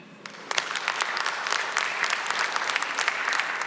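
A congregation at a Spanish-language church lesson bursts into applause for the Lord, with scattered claps building quickly into steady, moderately loud clapping from a group.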